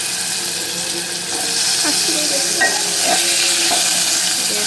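Chopped mangoes hit a hot pan for mango chutney, giving a loud steady sizzle and frying hiss with light stirring scrapes, close up and with no one speaking.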